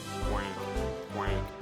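Ducks quack in a carnival-themed mini golf video game hole, two distinct quacks about a second apart, fairly clear over a steady synthetic background.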